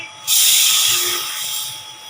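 Two cups of water poured into a pot to make sugar syrup for gulab jamun, a loud, close, hissing rush that starts suddenly and flows steadily for almost two seconds.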